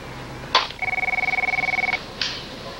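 A telephone in a 1980s office rings once, a near, fairly loud electronic trill of rapid pulses bracketed by short clicks, with no talk over it.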